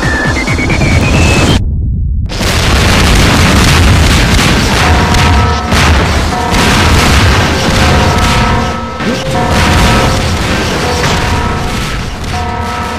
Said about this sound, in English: next torpedo seems to be coming my way. That one's coming through the wall